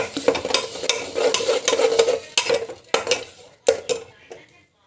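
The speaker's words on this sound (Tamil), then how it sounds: "டமாட்டா பியூரி ஆட் பண்ணிவிட்டு நல்லா வந்து வதக்கிடுவோங்க" Tomato puree being stirred and sautéed in a pan on the stove, with a utensil scraping and clinking against the pan in irregular strokes over a soft frying sizzle, close and moderately loud, with brief pauses between strokes.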